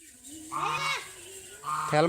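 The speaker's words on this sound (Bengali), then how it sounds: "এই হাঁসগুলো মানুষকে কামড় দেয় আর খালি চিল্লা আর ভয় লাগে" Ducks honking loudly nearby: two harsh, drawn-out calls, the first about half a second long and the second starting near the end.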